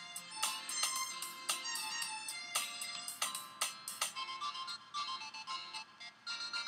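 A phone ringtone plays a bright, repeating melodic pattern of quick chiming notes, fairly faint and alone, continuing through the whole stretch without any talk.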